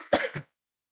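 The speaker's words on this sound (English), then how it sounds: "can't stop coughing" A single short, throaty cough in two quick bursts, close and fairly soft, followed by silence.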